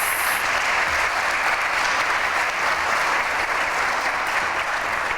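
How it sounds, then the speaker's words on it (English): Sustained audience applause fills a hall at an awards ceremony, a dense, steady clapping that holds evenly loud for the whole stretch with no voices over it. "Can we just give them a round of applause?"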